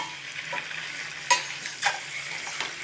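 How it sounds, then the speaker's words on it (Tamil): Eggs stirred and frying in a masala for Chettinad egg biryani, a steady close sizzle with a few sharper scraping strokes of the spoon across the pan. "சேர்த்துட்டு இது ஒரு 2 நிமிஷம் நல்லா இந்த மாதிரி பரட்டி விட்டுக்கலாம்"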